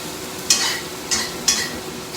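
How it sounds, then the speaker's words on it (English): Soy sauce hits a hot wok of Sichuan shrimp fried rice, sending up a steady close sizzle broken by three sharp spatula scrapes as the stir fry is tossed. "You can hear that sizzling."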